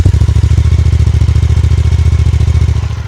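A Suzuki GSX-8R motorcycle engine fires up and settles into a loud, steady, rapid thumping idle close by, with no talking.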